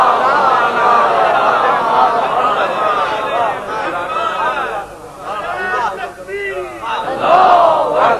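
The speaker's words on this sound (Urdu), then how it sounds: "صلوات بھیجیے بلندہ" Congregation at a religious majlis loudly reciting salawat together: a dense, forceful chorus of many voices chanting in unison, close and sustained, with overlapping rises and falls before it settles.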